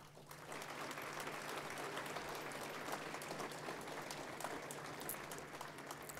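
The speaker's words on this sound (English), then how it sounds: "Please give a round of applause to Wes Heffernan." A crowd claps steadily, a dense, sustained round of applause from start to finish with no talking over it.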